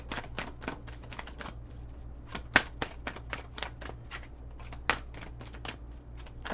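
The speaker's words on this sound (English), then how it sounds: "My arm's starting to get tired from the shuffling." Tarot cards being shuffled by hand in a long reading session, a steady run of quick papery riffles and soft flicks with a couple of sharper snaps, fairly quiet and close, with no talking.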